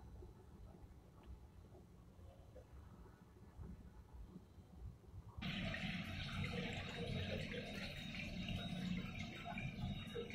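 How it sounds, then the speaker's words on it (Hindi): A newly installed sensor-operated urinal begins flushing after its water supply is turned on, a sudden steady rush of running water that starts partway through, following quieter background noise. "सेंसर चालू हो गया यूरिनल का।"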